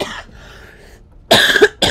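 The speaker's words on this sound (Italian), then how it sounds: "La tosse è ancora lì" Two harsh, loud coughs from a sick elderly character in XCOM 2: War of the Chosen, the first a short burst and the second longer and raspier after a pause filled with quiet background sound.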